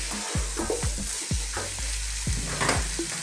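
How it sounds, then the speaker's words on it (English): Spices and red lentils cook in a hot pan over medium heat, a steady close sizzle broken by a quick run of scraping stirs, with no one talking. "I want to cook this on a kind of medium type heat"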